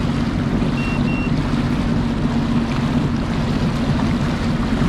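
A Sea-Doo personal watercraft runs through river rapids, its engine droning steadily beneath rushing water and wind buffeting the microphone, loud and close for the whole stretch.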